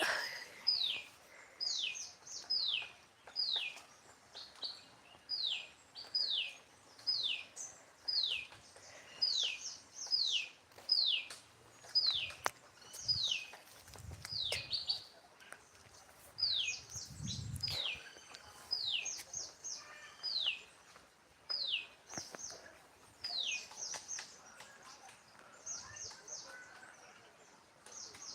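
Repeated bird chirps ring out in quick bursts throughout, sharp and fairly close, with brief pauses between calls and a few soft low thumps, around a flowering cashew tree.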